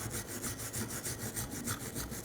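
A wire brush scrubs corrosion off the rear brake caliper bracket of a 2004–2008 Nissan Maxima in quick, rhythmic back-and-forth strokes, a close, raspy scraping with no talk.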